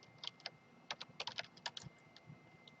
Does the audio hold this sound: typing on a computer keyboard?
yes